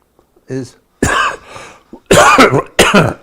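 A few harsh, close coughs in short bursts, one after another, with brief pauses between them.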